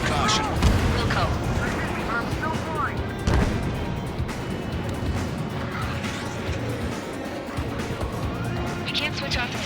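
Explosions and gunfire in the air-combat video game Ace Combat 7: Skies Unknown fill the scene with loud, dense booms, rumbling blasts and rattling shots, with radio chatter voices mixed in throughout.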